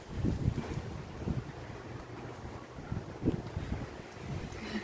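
Strong wind gusts buffet the microphone in a rough, fluctuating roar, surging and easing over a few seconds.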